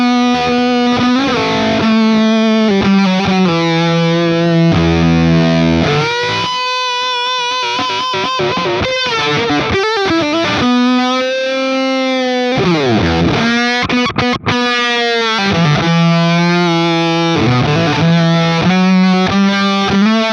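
An electric guitar played through a real fuzz pedal into an Overloud TH-U Slate amp simulator gives thick, saturated, buzzy notes and sustained chords, loud and continuous with brief pauses and bends, heard alone.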